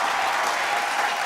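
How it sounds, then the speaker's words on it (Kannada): Loud, dense applause from a TV game show studio audience, a steady wall of clapping that fills the whole moment with no voices over it. "ಬರ್ಲಿ ಜೋರಾದ ಚಪ್ಪಾಳೆ."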